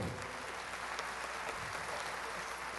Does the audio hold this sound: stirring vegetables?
no